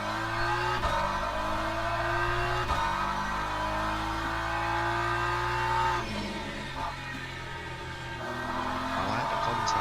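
A BMW race car in Le Mans Ultimate roars loudly along a straight, its engine climbing through gears with repeated rising revs and brief shift drops, continuous and close.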